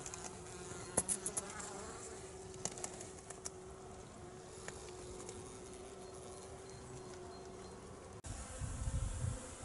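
Honeybees buzz faintly at a beehive in winter, a soft continuous drone with occasional louder passes close by, ending in a low rumble of handling noise.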